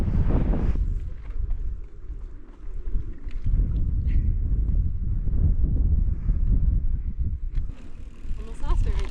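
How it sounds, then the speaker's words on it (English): Strong wind buffets the microphone on a mountain ridge on the Tour du Mont Blanc during an electric mountain bike ride, a continuous low roaring rumble that rises and falls, with a brief lull partway through. "There's some of that wind we had on the other side of the ridge."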